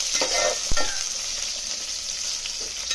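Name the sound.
stirring carrot and bean pieces in a frying pan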